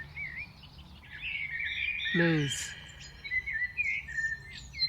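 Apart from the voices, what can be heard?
birds singing and chirping in a New Jersey park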